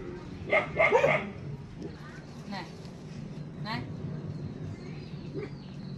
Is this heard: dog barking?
yes